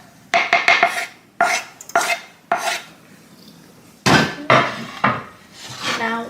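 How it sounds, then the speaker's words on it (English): A spoon stirs minced garlic into a cooking pot of meat, onions and vegetables, giving a series of close scraping and clanking strokes against the pot in short bursts, with brief pauses between them. "I'm mixing in the garlic with the rest of the onions"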